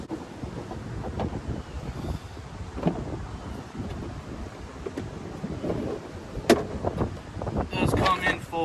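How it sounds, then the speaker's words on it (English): Gusty wind buffets the microphone outdoors beside a 2023 Ram 1500 pickup, with a low rumbling roar, a few sharper gust bursts near the end; a voice speaks faintly at times underneath. "It is pretty windy."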